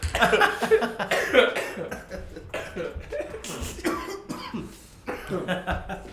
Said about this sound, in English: You do like coughing.